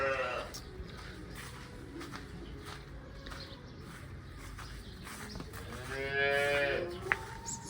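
Cattle low and moo at a moderate distance over a steady barn background, including a pen of cows about to freshen, with one louder, drawn-out moo near the end.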